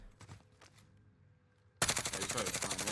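Gunfire in Call of Duty Warzone: after a fairly quiet stretch with a few faint thumps, a loud, close burst of rapid automatic fire erupts and keeps hammering steadily to the end.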